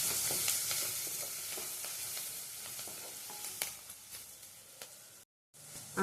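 Onions, green chilies and turmeric fry in a pan for a chicken and eggplant curry, with a steady close sizzle and occasional stirring scrapes, ending in a brief silent break.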